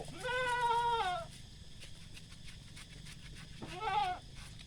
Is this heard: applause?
no